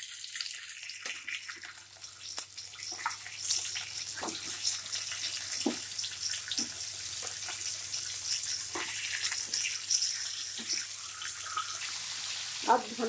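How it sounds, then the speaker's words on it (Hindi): Fish heads frying in hot oil in a pan, a steady close sizzling hiss with scattered small pops and crackles throughout, no talking. "अभी तेल गरम होने के बाद हम इसमें वो मछली का मुंडी डालेंगे।"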